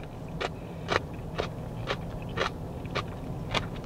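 Repeated crisp crunches of pickled Napa cabbage and cucumbers being bitten and chewed at a Honolulu market, about seven evenly spaced crackly bites, close and fairly quiet with no talking.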